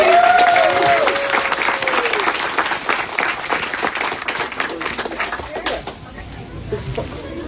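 A panel audience at a fantasy book tour event gives a warm round of applause for a guest, loud at first and thinning out over several seconds, with some voices and whoops mixed in.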